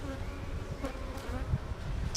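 Bees crowd over drawn hive frames, a soft, continuous buzzing drone close by with a few brief louder passes of single insects.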